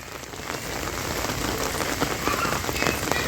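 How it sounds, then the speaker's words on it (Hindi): Heavy rain pours steadily, a dense, continuous hiss of drops hammering a surface with no pauses. "बहुत तेज़ों की बारिश आने लगी"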